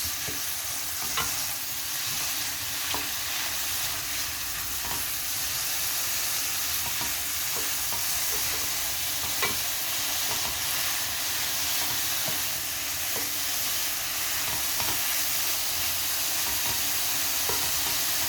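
Oyster mushrooms frying in a pan, with a steady close sizzle and crackle under intermittent spatula stirring and scraping, continuous and even in loudness throughout.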